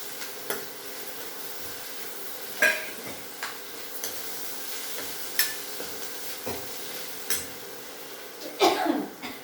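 Lentils sizzle steadily in tempering oil with a pinch of turmeric in a pan, broken by several sharp clinks and scrapes of stirring at irregular intervals.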